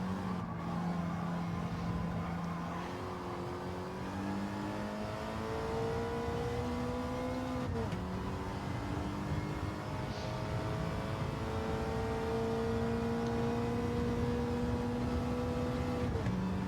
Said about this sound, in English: just trying to overtake Mr. Suswillow in the Datsun.